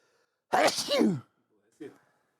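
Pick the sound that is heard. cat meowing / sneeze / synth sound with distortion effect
sneeze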